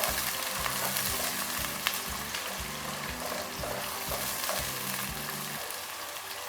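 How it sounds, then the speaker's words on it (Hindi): Two medium onions, finely chopped, fry in a pan for a chicken masala pulao, giving a continuous, even sizzle with soft crackling and no talking. "दो अदद दरमियाने साइज़ के प्याज, इनको हमने बारीक काट लिया था, तो वो डाल देते हैं अब इसमें।"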